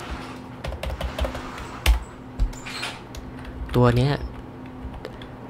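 Typing on a computer keyboard during a Nuke compositing software tutorial, a quick scatter of light key clicks close to the microphone, heard under someone speaking Thai.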